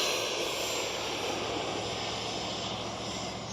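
An FMS 80mm F-86 Skyblazers RC jet roars steadily on takeoff, a loud, constant whooshing rush with no voices.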